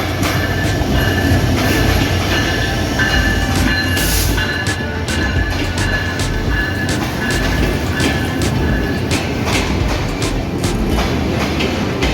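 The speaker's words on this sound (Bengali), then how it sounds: "ঢাকা থেকে সেরে আসা পঞ্চগড়গামী সাতশো পাঁচ আপকতা এক্সপ্রেস লাপাড়া রেলওয়ে স্টেশনের এক নম্বর লাইন দিয়ে এই মুহূর্তে প্রবেশ করছে" The Ekota Express, a passenger train bound for Panchagarh and hauled by a 6600-series locomotive, enters a railway station on line one with a loud continuous rumble and rhythmic clatter of wheels over rail joints.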